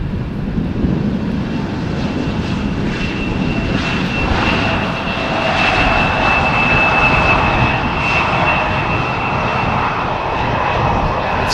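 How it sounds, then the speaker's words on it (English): KLM Embraer jet touching down on runway 18R at Amsterdam Schiphol on a windy day, a loud, steady engine roar with a whining turbine tone rising and falling as it rolls past, no speech. "So the other Embraer already touching down."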